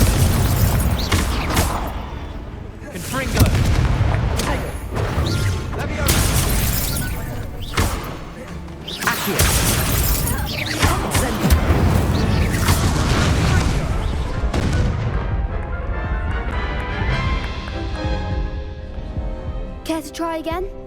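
Hogwarts Legacy combat with Confringo and Incendio spells firing repeatedly, loud booming blasts and crackling fiery bursts coming in quick irregular succession, with in-game voices calling out amid the noise.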